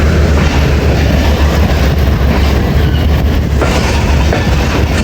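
A train pulls out of Sihala station with a loud, steady rumble of wheels on rail and a faint rhythmic clatter running the whole way through.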